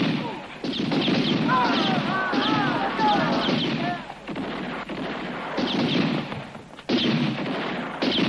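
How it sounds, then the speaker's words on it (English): Gunfire in a 1966 western, several sharp shots and impacts heard amid a busy film soundtrack with music and voices, loud and close. "Good shooting, Johnny."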